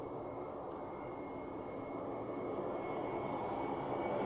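Continuous broadband roar of an Iberia airliner at Zurich Airport, steady and fairly loud throughout, with a faint high whine riding above, no talk.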